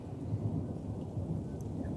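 A thunderstorm rumbles with deep, continuous thunder under steady rain pattering on surfaces, a dense, even wash of low roar and hiss with no voices.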